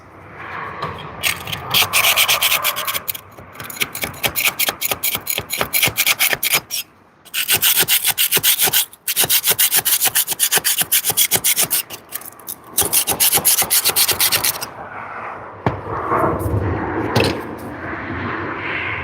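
Scraping and sanding lumps off a wooden surface with an abrasive tool, rapid rhythmic rasping strokes in long loud bursts broken by short pauses, close up, ending in softer rubbing.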